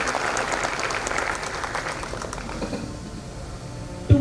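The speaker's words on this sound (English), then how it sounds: "Let us give all them a big round of applause." Audience applause for dignitaries at the IEEE INNOVA 2024 international conference: a dense, steady wash of clapping from a large crowd that slowly thins and fades, with a brief thump at the very end.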